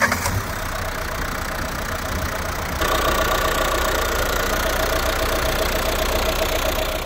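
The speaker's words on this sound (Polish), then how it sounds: "DCI oczywiście jest to wersja z silnikiem diesla pod maską" A 2021 Renault Megane 1.5 dCi diesel engine idles steadily nearby, a constant low rumble with a slight knocking texture that gets a bit louder partway through.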